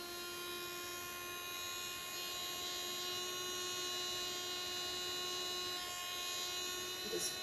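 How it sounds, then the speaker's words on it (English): Small electric fan blower pushing poured paint across a placemat, a steady whirring motor hum with a thin tonal whine that runs evenly throughout. "Then I'll have to use my little blower, a little fan blower."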